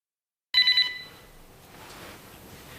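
A house telephone rings with a sudden bright electronic trill, a few quick pulsed bursts after silence, then fading into a low lingering tail.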